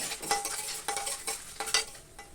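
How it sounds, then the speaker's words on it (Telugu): Tempering spices with asafoetida fry in oil for a moong dal flour upma, giving a soft sizzle broken by quick, rhythmic stirring scrapes of a spoon against the pan. "ఇప్పుడు కొంచెం పోపు వేగిందండి"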